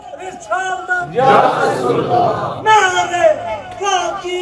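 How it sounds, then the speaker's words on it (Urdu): At a religious gathering honouring Sufi saints, a crowd answers a leader's call with loud, unison shouted slogans, two bursts of many voices between the lead speaker's drawn-out cries. "نعرے تحقیق، نعرے حیدری"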